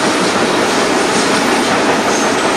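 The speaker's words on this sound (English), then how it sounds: "The last train leaves for Lanwern." Last coal train from Oakdale Colliery, bound for Lanwern, rolling past at speed near Rogerstone: a loud, steady, close roar of wagons with continuous rattling wheel clatter throughout, no voices.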